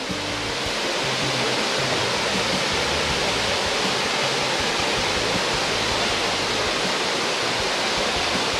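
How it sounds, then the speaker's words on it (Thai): Mae Kampong waterfall in Chiang Mai roars as a loud, continuous wash of rushing, falling water, close and unbroken, with no voices. "น้ำตกแม่กำปองครับ"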